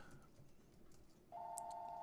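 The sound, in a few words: telephone ringing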